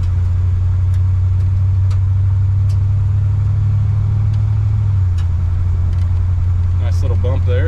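A 1954 Chevrolet Bel Air on new wheels pulls up to speed, its engine a steady low rumble heard from inside the car, with a shift in tone partway through and a few faint clicks and knocks.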